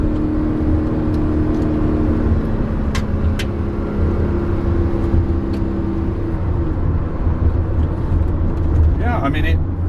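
A 1983 Mercedes 380SL pulls hard uphill, its engine note rumbling steadily and close with a brief shift in pitch midway, under continuous road and wind noise.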